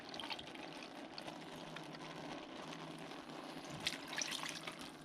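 Half and half poured from a soup can into a casserole mixture with cream of chicken soup, a soft continuous liquid pour running steadily throughout at low volume, with no voices.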